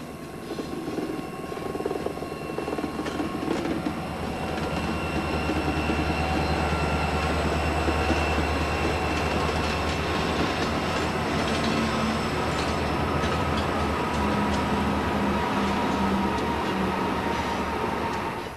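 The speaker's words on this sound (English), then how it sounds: "Trains on the Pittsburgh line retreat from the public eye west of Slope, but they make a grand entrance 3 miles later when they stroll into the spotlight at Horseshoe Curve." A train on the Pittsburgh line rounding Horseshoe Curve in Pennsylvania makes a steady, loud rumble with a droning diesel hum and grinding wheel tones that carry on unbroken throughout.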